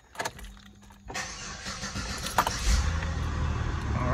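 A Chevy Impala's engine cranks and starts after a brief key jingle, then settles into a steady idle that grows slightly louder, nearby and without talking.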